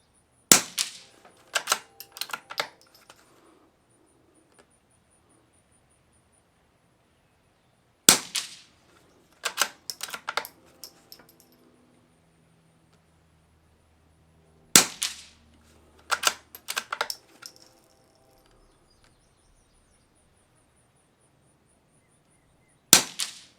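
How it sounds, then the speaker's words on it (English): Suppressed rimfire shots from a Lithgow rifle with a Gemtech suppressor, firing Eley Tenex ammunition. Four sharp cracks come roughly seven seconds apart, each followed by quick metallic clicks and clatter of the bolt cycling. "Last 5 shots with the Gemtech suppressor. And also last 5 shots for the Lithgow for the day."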